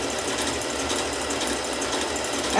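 A sewing machine fitted with a fringe foot stitches steadily and densely at close range, a continuous rapid mechanical whir with no pauses.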